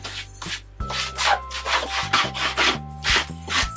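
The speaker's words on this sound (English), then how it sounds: "I'm scraping along the table to really make sure I'm getting this as thin as I can" A metal key dipped in blue paint is dragged across a table surface to spread the paint very thin, giving a steady series of dry rubbing scrapes, close and fairly loud, with no talk over them.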